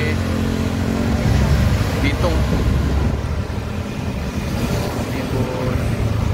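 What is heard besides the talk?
Sumatran buses passing on a road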